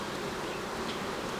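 A dense mass of honey bees inside a beehive hums in a steady, close, continuous buzz with no other sounds.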